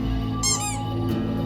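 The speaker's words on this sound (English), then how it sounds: "Let me play some squeaky sounds for you." A squeaky sound effect played over a steady low hum, a short warbling high-pitched squeak with a fainter chirp after it.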